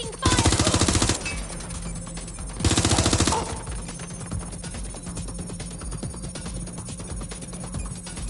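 Two loud bursts of automatic gunfire in Watch Dogs, each about a second long, rattle out close by, followed by quieter scattered shots and a low game ambience.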